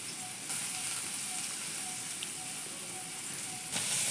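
Chopped onion and crushed ginger paste sizzle in hot oil in a pan during village home cooking, a steady close hiss with brief surges as more goes in, no talk.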